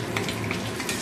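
Tangy fritters (boras) frying in a pan, a steady close sizzle with light crackle and faint stirring, no voices.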